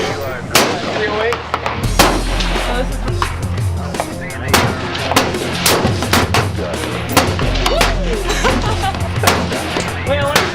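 Big game rifle fire from a .308 and similar rifles at an outdoor range, sharp loud reports recurring every second or two over about ten seconds, with people talking between and over the shots.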